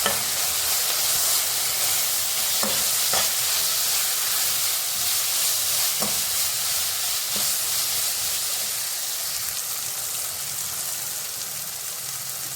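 Noodles with chilli powder stirred in a hot frying pan give a steady sizzling hiss throughout, with a few soft scraping clicks from the spatula and no voices.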